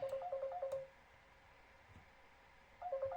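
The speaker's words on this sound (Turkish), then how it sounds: "Telefonu çaldı kusura bakmayın." A mobile phone ringtone plays as a quick repeating electronic melody, loud and close, then breaks off into near silence before the same tune starts up again at the end.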